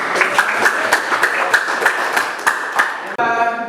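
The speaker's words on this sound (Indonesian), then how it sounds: "Tepuk tangan untuk" Students in a seventh-grade classroom clap for a discussion group, a run of sharp, fairly regular claps close by, ending abruptly with a short tonal ping.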